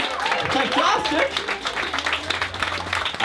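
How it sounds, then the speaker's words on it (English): A comedy club audience applauds the MC, a dense, steady wash of clapping and crowd noise that stays loud and close for the full few seconds, with voices mixed into the noise. "Please give a huge round of applause for our French existential MC, please."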